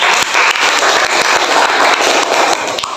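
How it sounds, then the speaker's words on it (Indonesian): Students clap together in a classroom, a loud, close burst of dense applause that holds steady for a few seconds. "Tepuk tangan buat kalian semua."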